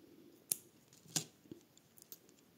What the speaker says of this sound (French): Là, on peut couper notre fil